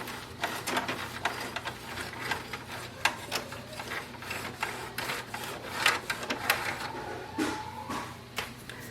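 An HP DeskJet 4100 printer's paper roller turns during cleaning, giving a faint, soft mechanical whir with light irregular clicks and rattles throughout.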